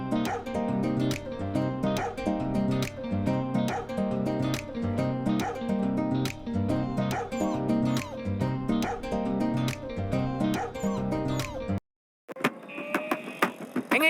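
A dog barks in a rapid, steady series of sharp yips close to the listener, with whimpering and yelping toward the end.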